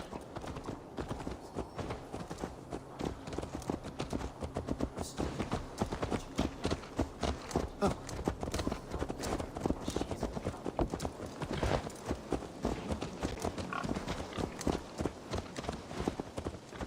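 Horse hooves clip-clop steadily in Assassin's Creed Valhalla, a continuous dense rhythm of close, fairly loud footfalls over the full stretch with game ambience underneath.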